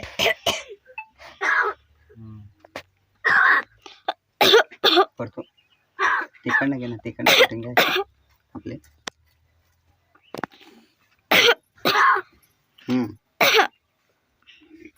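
A crow mimics coughing with a string of short, rasping cough-like bursts, spaced irregularly, with brief human talk between them.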